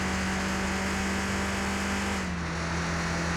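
A Ford Escort in Car Mechanic Simulator 2021 accelerating, its engine holding a steady loud drone that shifts down in pitch partway through as it changes gear, with no voices.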